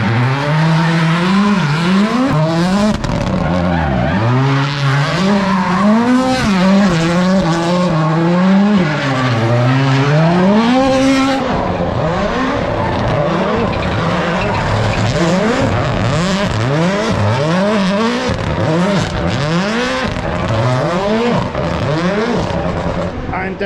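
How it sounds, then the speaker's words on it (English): Loud Rally1 car engines rev and roar repeatedly in a tyre-warming area at the Acropolis Rally in Greece, pitch rising and falling in rapid cycles as cars accelerate nearby, with tyre noise throughout. "this warming up, tyre warming area will be exploding with noise and action from Rally 1 cars"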